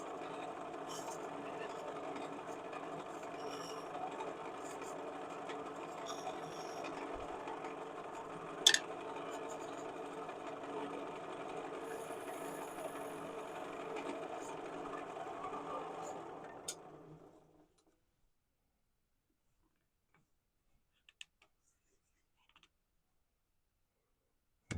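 A wood lathe spins a wooden stopper while a tool chamfers it, giving a steady, even whir with a single sharp tick midway, then the motor winds down into near silence.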